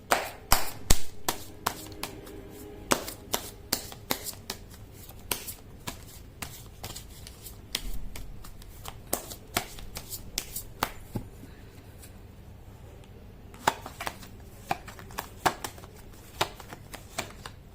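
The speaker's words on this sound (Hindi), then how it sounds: "कर लेते हैं कार्ड की शफलिंग" Tarot cards are shuffled up close with crisp, repeated slaps and riffles in an irregular rhythm, a steady run of sharp snaps over a faint hum.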